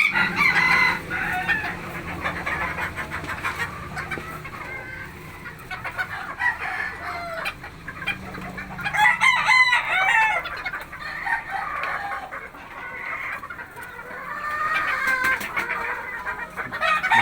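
Hens cluck and chatter nearby in a steady, overlapping stream, with a few louder squawks rising midway and no talking.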